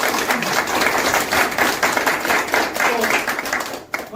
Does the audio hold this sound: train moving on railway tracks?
no